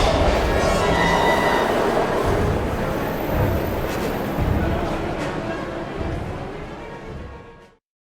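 A train rumbles past in the video game Heavy Rain, a loud, dense rolling roar with faint rail clatter that holds steady and then cuts off abruptly near the end.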